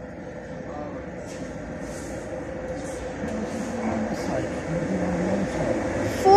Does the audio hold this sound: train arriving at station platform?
yes